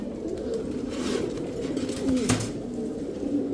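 Kashmiri racer pigeons coo softly and repeatedly at close range over a low background hum, with occasional brief rustling and one sharper sound midway.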